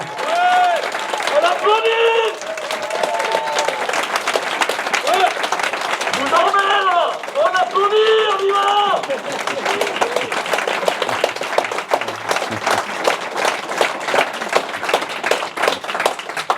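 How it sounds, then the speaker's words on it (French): A seated audience at an evening talk on European lobbying breaks into loud, sustained applause, dense clapping that carries on for many seconds while voices and cheers rise over it. "je voudrais un tonnerre d'applaudissements pour ces 2 messieurs"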